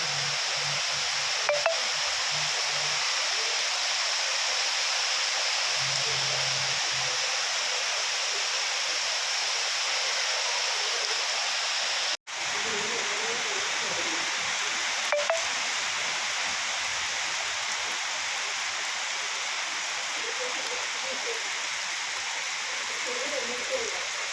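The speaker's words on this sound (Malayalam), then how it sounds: "അപ്പോൾ നല്ലൊരു മഴയും കൂടി പെയ്യുന്നുണ്ട്" Heavy rain falls steadily in a village during a power cut, producing a dense, even hiss throughout, with a few faint low murmurs early on.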